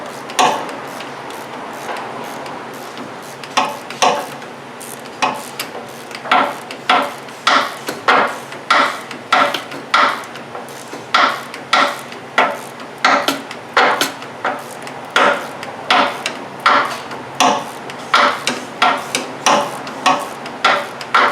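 Ratchet clicks and tool taps while loosening the 12mm bolt that holds the lines to the rack on a 2000–2006 Toyota Tundra, a steady series of sharp close clicks speeding up through the middle.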